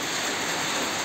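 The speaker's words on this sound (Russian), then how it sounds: "Сразу извиняюсь за шум, идет дождь. Барабанит это все по металлу, по крыше." Rain drums on a metal roof in a steady, dense hiss of many tiny impacts, loud and close, with no pauses or talk.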